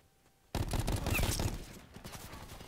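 Rapid automatic gunfire from a weapon in Call of Duty: Black Ops 4 bursts in abruptly after a moment of quiet and rattles on as a dense, continuous stream of shots, easing slightly toward the end.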